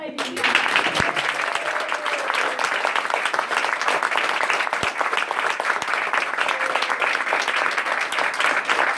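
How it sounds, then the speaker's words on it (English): Wedding guests applaud the newly married couple after their kiss at the ceremony, steady sustained clapping from a small crowd filling the whole stretch with a few louder claps near the front. "Come on, round of applause, ladies and gentlemen."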